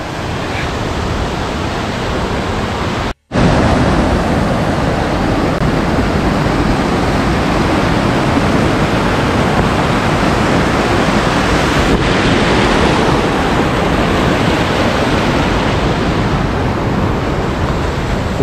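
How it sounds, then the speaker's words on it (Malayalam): Forceful rushing water on a rainy Dev Roopa mountain trek, a loud, dense, continuous roar filling the whole clip, broken by one brief dropout near the start, with wind buffeting the microphone and no talk. "എന്ത് ഫോഴ്സിൽ വെള്ളം വരും നോക്ക്."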